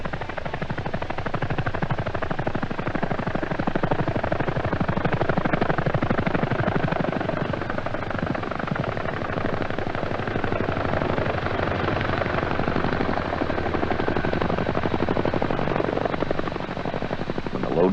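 A CH-47 Chinook twin-rotor helicopter hovers close and loud while airlifting a Chaparral air defense system on slings, its rotor thump and turbine roar steady and unbroken throughout.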